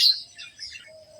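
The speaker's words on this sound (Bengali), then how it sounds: "পাখি ডাকতেছে গাছে গাছে" A brief burst of high bird chirps and tweets in trees by a village riverbank, fairly faint, followed by a short thin whistle-like call.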